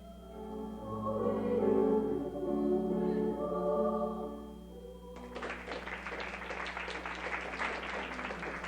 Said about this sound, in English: The prince clapped his hands in delight